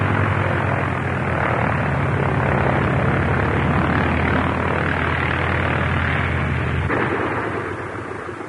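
A propeller plane drones loudly and steadily in a broad, rumbling roar that holds throughout, then fades slightly near the end, with no talk.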